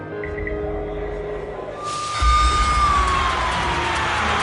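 Emergency vehicle sirens rise as firefighters and emergency personnel arrive at a hotel skywalk collapse, a rising wail emerging over a low rumbling background and growing louder.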